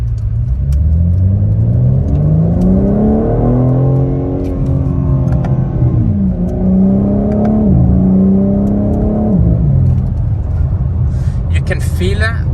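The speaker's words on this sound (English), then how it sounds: "you can feel how fast the gearbox changes gear." A BMW M4 Competition AWD accelerates hard in sport mode, its loud engine note climbing steadily and dropping sharply at several quick gear changes, close and continuous throughout.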